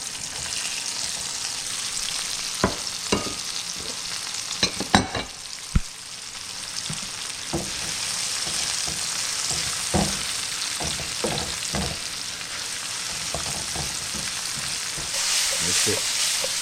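Sliced meat for a cheesesteak fries in a hot pan with a continuous loud sizzle, broken by scattered sharp clacks and scrapes of a utensil stirring and pushing the meat around.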